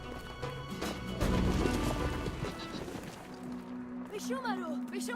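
Mountain goats walk through the Brothers: A Tale of Two Sons game world, their hooves clopping in a steady rhythm with bleating cries over background music and ambience.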